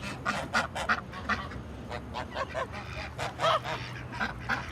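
Ducks in a farm coop give a run of loud, nasal quacks and honks in quick, overlapping calls from several birds, close and continuous over a low background hum.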